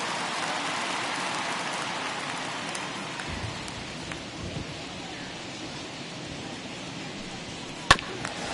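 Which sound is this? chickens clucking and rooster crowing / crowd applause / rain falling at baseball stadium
rain falling at baseball stadium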